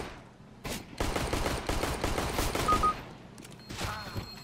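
Dense, close bursts of automatic rifle fire in the tactical shooter CS:GO, shots crackling in rapid strings with brief gaps and a trailing scatter of quieter pops, no talk over it.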